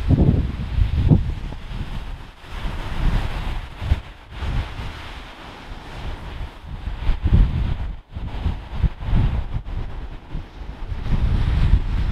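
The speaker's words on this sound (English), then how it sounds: "just watching the waves roll and break in" Waves roll in and break on the shore of a cold lake strewn with broken ice in snowy lake-effect weather, with surges and crashes rising and falling under steady wind buffeting the microphone.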